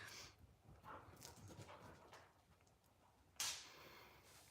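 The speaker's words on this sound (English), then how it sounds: "I know the dogs are playing. I can hear them." Dogs playing sound faint and distant, with soft scuffling, muffled yips and huffs throughout and a sharper, louder bark or scuffle near the end.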